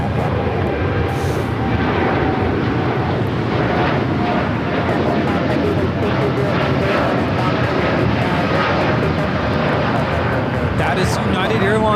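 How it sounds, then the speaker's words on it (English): United Airlines Boeing 787-9 Dreamliner taking off at LAX, a loud continuous jet engine roar that stays steady and broad throughout, with voices speaking over it. "That is United Airlines 1855 taking off to Newark on the 787-9 Dreamliner"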